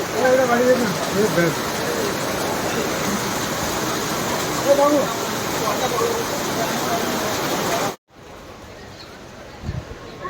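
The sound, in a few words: heavy rain outside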